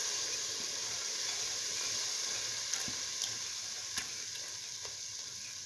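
Lentil pieces sizzle in a pan of cooking stew, giving a steady, bright frying hiss throughout, broken by a few faint pops and light clicks.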